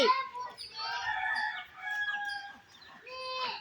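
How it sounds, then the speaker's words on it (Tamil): Chicks cheeping and calling close by in a busy, repeated series of high-pitched calls with short pauses between them. "டேய் கோழி குஞ்சுரா"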